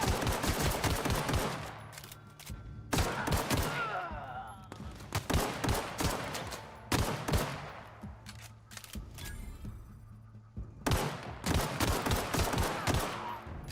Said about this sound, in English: Not used to shooting in these games.